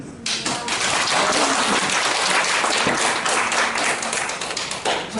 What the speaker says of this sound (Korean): 박수가 저절로 나온 유일한 패널 토론이셨어요